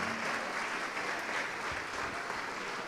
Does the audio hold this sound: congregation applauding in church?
yes